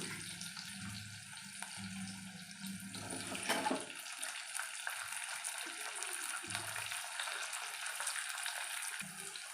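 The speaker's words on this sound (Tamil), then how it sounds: "கடுகு பொறிஞ்சி வருது" Mustard seeds splutter in hot oil in a pan while cooking a kara kuzhambu, giving a faint, continuous sizzling hiss with soft crackles throughout.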